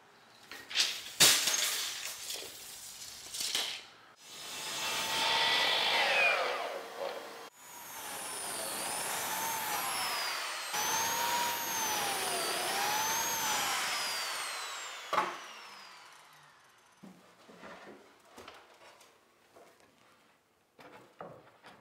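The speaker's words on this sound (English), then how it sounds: "we're gonna make our cuts with our biscuit joiner" A Bosch biscuit joiner cutting slots in wood: a short rough burst, then a longer whirring motor whine with rising and falling pitch sweeps, followed by quieter knocks and handling clatter.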